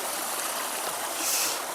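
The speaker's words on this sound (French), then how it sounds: "on a un petit ruisseau qui va se jeter dans le Torion" A small stream running down toward a river, tumbling over tiny cascades: a steady, close rushing and splashing of water with a constant broadband texture and no voices.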